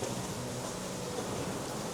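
Steady hiss of rain falling outside, heard from shelter beneath a bridge, continuous and even with a soft low rumble, no voices.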